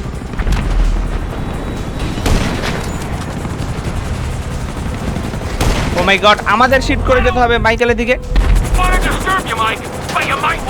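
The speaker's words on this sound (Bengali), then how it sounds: "এখান থেকে আমরা হেলিকপ্টারটার উপরে আক্রমণ করেছি" Rapid gunfire rattles in GTA 5 as helicopters come under attack, dense bursts of shots and booms running through the clip, while an excited voice talks over the later part.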